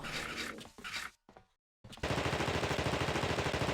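Automatic gunfire in The Thing video game: a short choppy burst, a brief silence, then loud, sustained rapid-fire shots in a steady rhythm.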